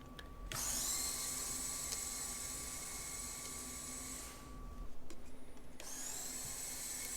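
Small Traxxas TRX4M RC crawler trucks, one with an Endura 66-turn motor, drive in high gear, giving a steady high-pitched electric motor whine with gear hum that drops out briefly and then starts again.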